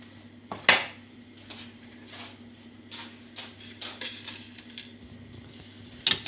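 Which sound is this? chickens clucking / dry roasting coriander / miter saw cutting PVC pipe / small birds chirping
dry roasting coriander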